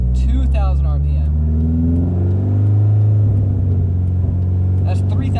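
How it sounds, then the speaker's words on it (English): A manual car's engine rumbles deep and close, with the revs rising and falling in short pushes, while a person talks over it at the start and end. "That's just like kicking the revs up."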